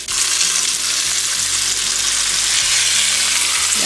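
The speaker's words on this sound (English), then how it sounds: "I'm just going to let them sear on each side for a couple of minutes" Beef searing in a pan gives off a loud, steady, dense sizzle that holds at an even level from start to finish, close up and with no voices.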